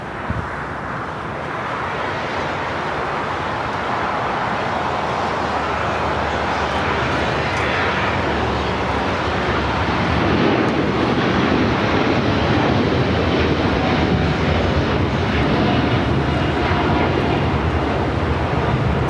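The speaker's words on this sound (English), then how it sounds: "This is LL Flight 6 taking off to Tel Aviv on the 787-9 Dreamliner" An El Al Boeing 787-9 Dreamliner takes off from LAX bound for Tel Aviv, its broad jet roar building and staying loud and sustained, growing a little stronger midway.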